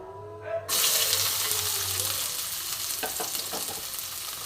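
Garlic and medium onion drop into hot oil in a pan, setting off a sudden loud sizzle that holds steady and close, with a few faint stirring scrapes underneath.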